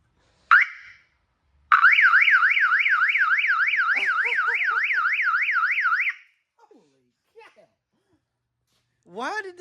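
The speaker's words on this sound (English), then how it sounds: "I guess it was probably an alarm. They probably put an alarm on it." A camper van's alarm blares loud and close, a rapid warbling electronic whoop holding steady for several seconds before cutting off, with brief voices and sounds around it.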